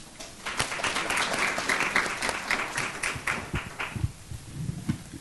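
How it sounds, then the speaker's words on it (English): Audience applause for a panelist at a university student leadership luncheon, a steady moderate wash of many hands clapping that thins and fades toward the end. "Please give a round of applause for Ms. Robertson."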